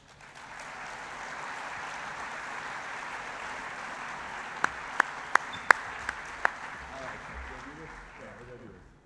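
Audience applause welcoming a prep sports reporter at a high school sports awards event, a broad steady wash of clapping with several sharp, close individual claps standing out midway, then voices as it dies down.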